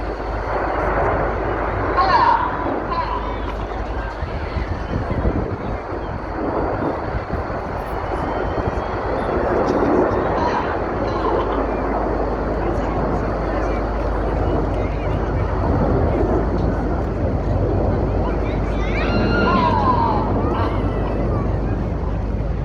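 Red Arrows jets flying the rollbacks manoeuvre at an Armed Forces Day air display in Scarborough, with a steady, distant roar of jet engines that swells and fades slightly under continuous commentary.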